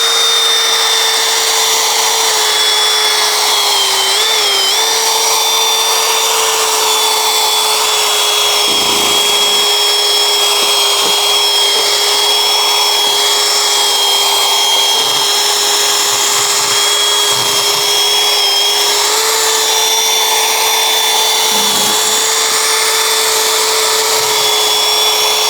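Power drill fitted with a sanding pad sanding a car headlight, a loud steady high-pitched whine held throughout with slight pitch wobbles and faint grinding contact underneath, close with no talking.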